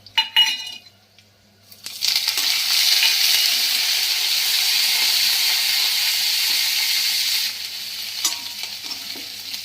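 After a few clinks, a loud, steady sizzle erupts as curry leaves and dried red chillies hit hot oil, crackling continuously up close before easing slightly.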